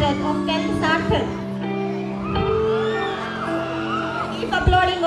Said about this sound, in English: Keep applauding, audience.